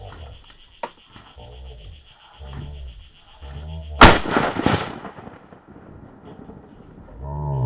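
Shotgun blasts during a teal duck hunt: one sharp, loud shot rings out, then a second heavy report a few seconds later that echoes and fades, with quiet talk in between.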